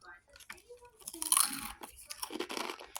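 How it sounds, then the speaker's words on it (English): A crunchy baked red lentil snack is bitten and chewed up close, giving quiet, irregular crunches and crackles with soft voice sounds mixed in. "Hear that crunch?"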